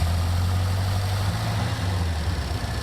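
A hot rod's EFI engine, set with very low timing, is revved and stumbles as it loses spark, giving a loud, rough, low-pitched drone that sags and wavers partway through.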